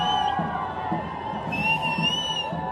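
Protest marchers on Main Street in Dallas cheer in a continuous, energetic roar, with shouts, whoops and a high whistle rising from the crowd throughout.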